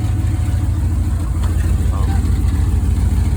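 A 5.9 Magnum engine with a full exhaust and an exhaust leak idles close by, giving a steady low, pulsing rumble with a faint chuffing edge and possible faint voices in the background.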